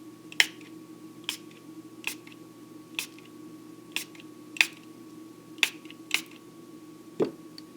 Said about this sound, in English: so I'm going to spray it one more time